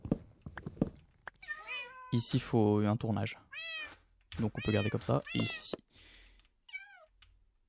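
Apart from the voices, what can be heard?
cats meowing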